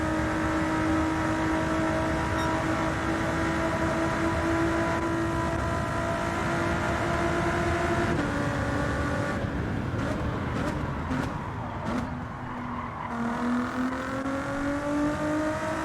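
Race cars drone and whine at high revs in Gran Turismo 7 during a Bathurst 12 Hour endurance race, a steady engine note that dips as the car brakes and shifts, then climbs again.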